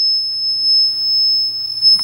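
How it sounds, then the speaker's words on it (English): A shadow detector emits a steady high electronic tone, continuous and fairly loud, over a low hum, ending in a brief clatter of handling. "It continues to beep because it is not picking up the green light at the other end of the room"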